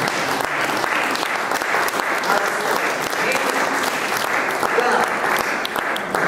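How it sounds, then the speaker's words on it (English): Clapping from a lecture audience rolls on evenly, a dense, moderately loud patter of many hands lasting several seconds. "Clapping is allowed."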